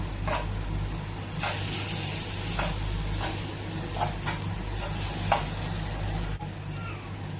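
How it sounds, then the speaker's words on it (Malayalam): Onions and tomatoes sizzling in a pan for a Kerala clam roast, a steady loud frying hiss with several scraping spoon strokes as the mixture is stirred, close up with no talking. "നന്നായിട്ട് ഇളക്കി ചേർത്ത് കൊടുക്കാം"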